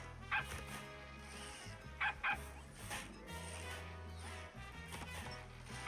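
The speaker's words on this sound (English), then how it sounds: "He's a cute little doggy with wobbly eyes and a flashy tail." Short dog yips and barks from the exploding dog trap in the video game Evil Genius 2, several brief bursts over a busy game music bed.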